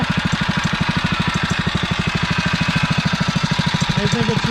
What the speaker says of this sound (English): The engine hunts a little bit because that spring